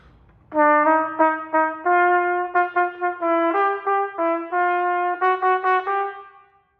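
A solo brass instrument plays a bright melodic line of short, evenly articulated repeated notes, close and clear, ending with a fading held note.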